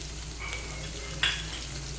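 Masala ingredients for ridge gourd curry fry in a pan on low flame, giving a soft, steady sizzle with one brief utensil clink partway through and no voices.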